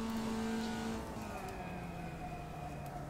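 A Formula Vee race car engine in iRacing holds third gear at VIR, a steady buzzing drone whose pitch eases slightly lower, continuous and fairly quiet with no talk.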